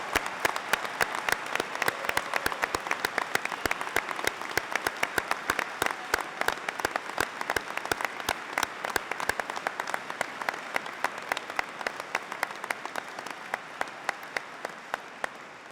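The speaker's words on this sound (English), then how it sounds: "Can I ask you all to join with me in giving them one fantastic round of applause for such a great achievement?" Applause for graduating health students at a graduation ceremony, a long run of steady clapping from a large audience with sharp individual claps standing out, gradually thinning toward the end.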